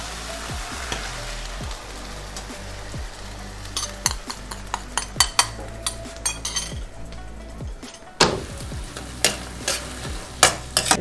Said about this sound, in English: Now I'm going to add this sauce to mix it well.